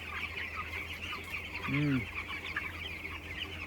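A flock of 13-day-old chicks peeps continuously, and a single short cluck rises clearly above the chatter midway through.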